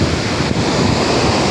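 Fast-flowing Mahanadi river water rushes in a loud, steady broadband roar, with heavy wind buffeting the microphone throughout.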